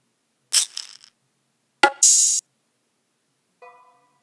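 An open hi-hat and shaker merged in GarageBand for a trap-style beat play as a few sparse, crisp hits: a shaker-like rustle, a sharp hit followed by a bright hiss, and a faint tonal tail. No voices.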